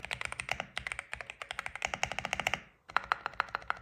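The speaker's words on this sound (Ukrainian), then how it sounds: "Тайпінг дуже приємний, це саме той тайпінг з відосиків у Тіктоці." Fast typing on an Epomaker mechanical keyboard gives crisp, close keystroke clacks in a quick, even rhythm, broken by a brief pause before the typing resumes.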